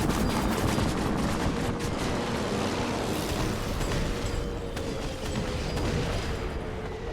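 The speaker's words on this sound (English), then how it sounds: "I have a gun with infinite ammo" A gun with infinite ammo fires in Assassin's Creed Syndicate amid a loud, chaotic fight, rapid overlapping shots and crackling impacts forming a dense, sustained barrage with rumbling booms throughout.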